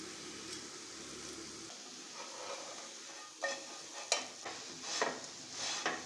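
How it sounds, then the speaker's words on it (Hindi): A lachha paratha fries in a pan with a soft, steady sizzle, broken by intermittent scraping and clinks from a utensil against the pan. "और इस तरह से हमने अच्छा सा कलर आने तक फ्राई कर लेना है।"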